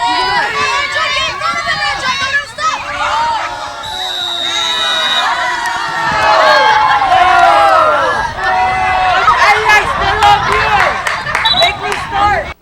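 A lively sports crowd cheers and shouts continuously, with children's voices and excited whoops layered in a dense, close roar that swells in the middle and stays loud throughout.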